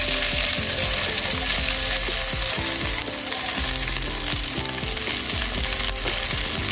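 Soaked sago pearls and powdered peanuts sizzle in a pan while being cooked for sabudana khichdi, with a loud, dense, continuous frying crackle and occasional stirring noises throughout.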